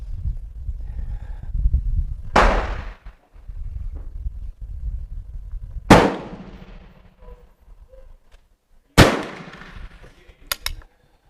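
Three loud, sharp rifle shots from a Rolling Block Danish 11.7 caliber rifle, evenly spaced outdoors, each with a brief echoing tail over a low background rumble, followed by faint metallic clinks.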